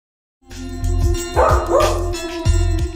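A dog barks several times in short, loud, close yips and woofs over a steady tonal background, with no voices.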